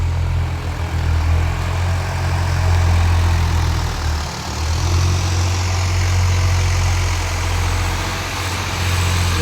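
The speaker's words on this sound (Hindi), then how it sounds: "अभी ट्रैक्टर चला रहे हैं।" A tractor engine runs steadily with a deep, constant droning rumble, loud and close, slightly swelling midway, with no talk.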